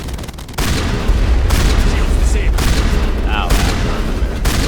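Gunfire in Mass Effect 1 Legendary Edition, including sniper rifle shots, heavy booming blasts and crackling bursts over loud combat noise, with a voice briefly crying out.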